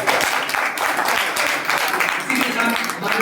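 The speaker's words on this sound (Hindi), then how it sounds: "इस सत्र के लिए एक बार जोरदार तालियां।" Applause from an audience at a university drama and theatre department short film festival session, a dense steady wash of clapping throughout, fairly loud, with some voices mixed in.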